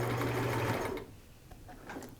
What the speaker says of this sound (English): I'm tacking it with my sewing machine and not with the needle and thread